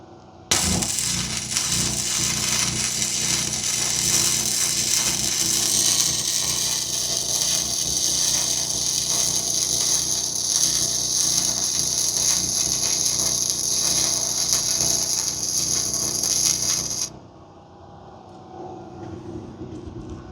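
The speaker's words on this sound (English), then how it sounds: "So he's gonna try to lay a bead down" Hynade MIG145FX MIG welder laying a bead on a metal bed frame, a steady loud buzzing crackle running continuously for about seventeen seconds, then cutting off abruptly to quiet background.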